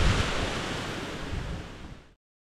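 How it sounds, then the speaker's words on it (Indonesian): Strong wind blowing outside at night in Karimunjawa, a loud continuous rushing roar buffeting the microphone for about two seconds before cutting off abruptly, with no voices. "Karena anginnya ternyata di luar kenceng banget"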